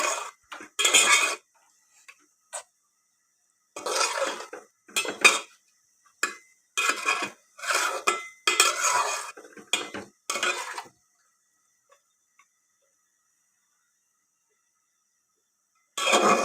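Chicken curry with pumpkin being stirred and sautéed in a pot, a metal spoon scraping and clanking against the pot in several bursts, loud and close, separated by quiet pauses.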